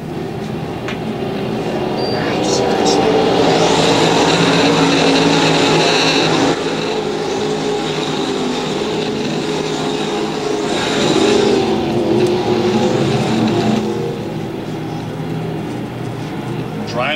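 Factory stock race cars lapping a dirt speedway, with a loud roaring engine drone that swells as the pack passes, under a track announcer calling the race.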